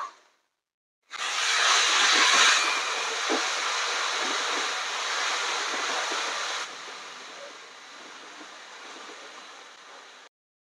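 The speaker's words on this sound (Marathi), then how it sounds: "तेलामध्ये आपल्याला थोडंसं ते परतवून घ्यायचंय आता." Fresh raw grated coconut and unroasted green chili paste sizzle in hot oil in a pan, a loud, steady frying hiss that starts after a second of quiet and drops to a softer sizzle toward the end.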